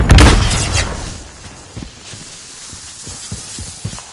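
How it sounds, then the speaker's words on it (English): Smoke grenade deployed in Modern Warfare: a loud burst at the start that decays into a hissing wash, followed by scattered thumps and pops of distant gunfire for several seconds. "Throwing smoke!"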